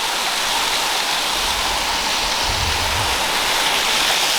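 Loud, constant roar of a waterfall between cliffs, heard up close as unbroken rushing water with a deep rumble underneath.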